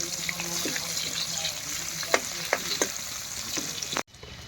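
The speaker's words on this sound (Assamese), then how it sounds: "পিঁয়াজ জলকীয়াটো ভাজি কৰি লওঁ" Onion and green chili fry in a pan, a steady close sizzle with a few light clicks of stirring, cutting off abruptly at the end.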